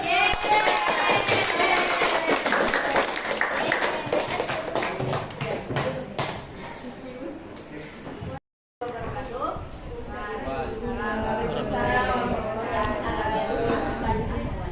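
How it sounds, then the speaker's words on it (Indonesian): A group in a school classroom claps, a dense burst that slowly thins out. After a brief silence, a voice begins speaking. "Ya, tepuk tangan dulu."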